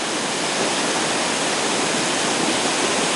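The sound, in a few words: Naydong Waterfall up close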